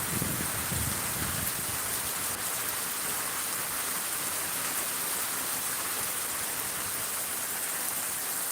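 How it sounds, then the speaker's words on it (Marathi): Heavy evening rain pours down after a hot day, a dense, even roar of water that holds steady and loud throughout with no pauses. "दिवसभर गरमी संध्याकाळी जबरदस्त पाऊस"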